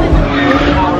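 Drift race car at an East Pattaya drift club circuit, spinning out with tires squealing, a loud continuous engine and tire roar filling the short stretch, with crowd babble faintly underneath.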